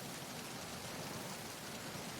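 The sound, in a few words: rain sound effect in Metal Gear Solid 2 video game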